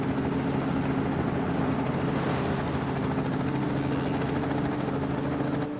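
A navy helicopter takes off from a naval ship at sea, its rotor beating in a rapid, steady chop over a loud continuous engine roar that stays strong and close throughout.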